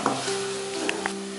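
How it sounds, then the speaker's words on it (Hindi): Dry spice powders (turmeric, red chilli and cumin powder) roasting in a pan for rajma masala, with a soft sizzle, a steady hum and a few light scraping stir clicks, brief and close. "2 मिनट के लिए इन सारे सूखे मसालों को आप अच्छे से भून लें"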